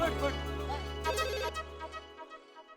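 A telephone rings with a repeating electronic tone for a call, moderately loud and close, cutting off after about two seconds with a little background sound trailing.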